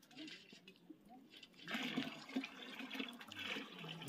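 Water gushes steadily from a hose pipe into a garden bed in a village on a cold morning, a soft broadband splashing that starts partway in and carries on to the end at moderate loudness.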